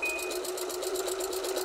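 A sewing machine stitches the seam of a dog bone pillow in a fast, even, continuous rhythm, heard close and fairly quiet with no talking.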